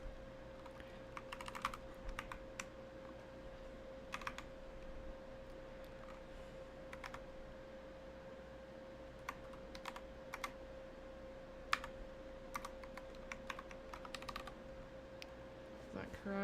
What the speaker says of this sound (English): Maybe I should just type it in.